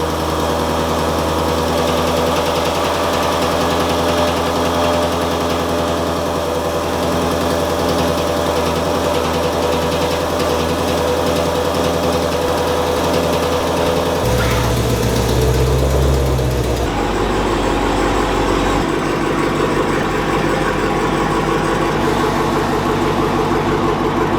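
A car engine runs steadily just after starting, with a loud continuous idle drone and vibration close by, shifting in pitch and roughness partway through as the revs change.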